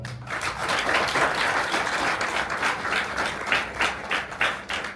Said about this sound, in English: With a loud round of applause, we would like to express our heartfelt gratitude to our sir.